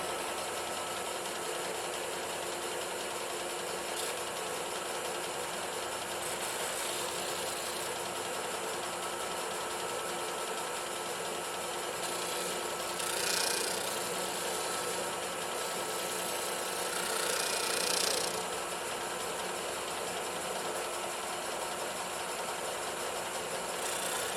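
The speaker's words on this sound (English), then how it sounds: "Now, let's sand the edges until we get a perfect fit in the lid." A disc sander grinds the edges of a plastic bin lid for a hamster cage, giving a steady, fairly faint motor whir with two brief louder bursts of sanding contact.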